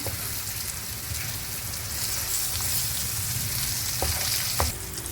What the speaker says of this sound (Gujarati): તો આવી રીતે તેલમાં એને જરાક હલાવી લેવાનું, ગેસ ધીરો કરીને, આપણો મસાલો બળે નહીં એમ.